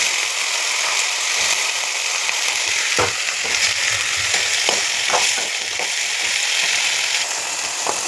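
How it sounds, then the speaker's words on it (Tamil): Drumstick pods and brinjal frying in oil with onions, a steady close sizzle running throughout with a few sharp pops and scraping stirs scattered across it, no talk. "காய் நல்லா எண்ணெயிலேயே இப்படி வெந்துடணும்."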